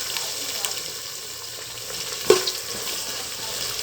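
Onions frying in ghee and oil in a pan for Indian tomato rice, a steady close sizzle with a brief stir or clatter partway through, no voices.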